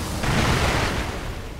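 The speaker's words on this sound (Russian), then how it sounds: "то мы получим обычный бросок петард." Firecrackers thrown in Sekiro: Shadows Die Twice burst in a dense, rumbling crackle, a loud sustained blast that fades slightly over a second and a half.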